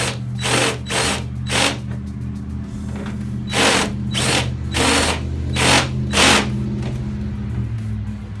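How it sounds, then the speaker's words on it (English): A power drill whirs in repeated short bursts, stopping and starting as the bit bores through material, close and loud. "I'm gonna try to drill a complete hole with it."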